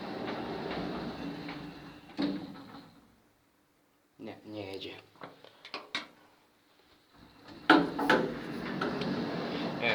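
A KONE M-Series elevator under test gives a low mechanical rumble and sliding door movement with clunks and thumps, broken by a quiet gap. A voice talks nearby.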